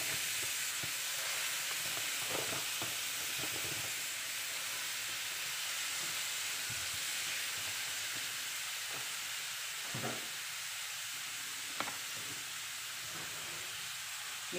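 Minced beef sizzles steadily in a frying pan, a broad continuous hiss with occasional stirring scrapes and clicks, close and even throughout.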